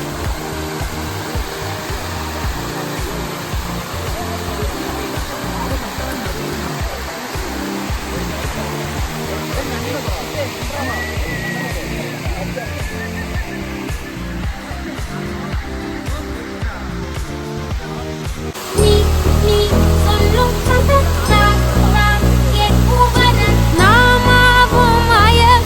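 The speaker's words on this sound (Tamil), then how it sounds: "Welcome to வட்டக்கனல் falls." Vattakanal Falls in Kodaikanal pours in a steady, dense roar of rushing water, loud and constant, with faint voices and then music layered on top in the later part.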